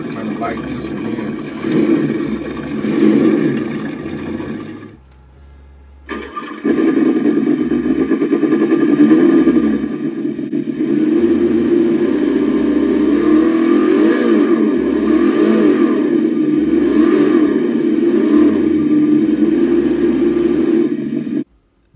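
An RC4WD Chevrolet K5 Blazer fitted with an ESS Dual sound module plays a simulated engine sound: a steady, loud drone with a break in the middle, then ongoing revving under a voice talking over it.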